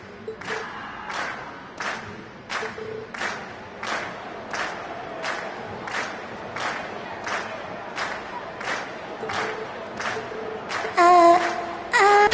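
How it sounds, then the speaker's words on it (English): A crowd cheers in the video game Trails of Cold Steel, rhythmic chanting bursts repeating about every second, with a steady roar of voices underneath and brief chimes near the end. "we've heard your cheers loud and clear"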